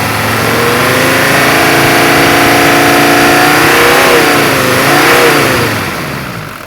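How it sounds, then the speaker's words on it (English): An old Mercedes diesel engine revs up, holds, then rises and falls in pitch a couple of times before easing back down, loud and close. "Now that's how a diesel engine should sound."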